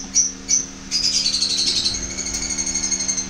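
Pet breeding birds in a home aviary chirp in short, high tweets close by, with a steady mechanical hum running underneath.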